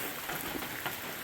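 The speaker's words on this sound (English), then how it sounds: "it's just a steady drizzle coming down" Steady drizzle falls outdoors on an all-day wet morning, a soft continuous hiss of fine drops pattering on surfaces with no voices over it.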